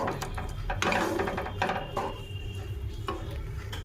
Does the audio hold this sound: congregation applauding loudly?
no